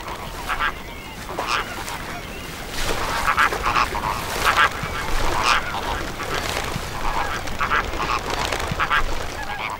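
A flock of flamingos calls in a mangrove swamp with brackish water, a dense, steady chorus of goose-like honks and gabbling notes that overlap for the whole stretch at fairly close range.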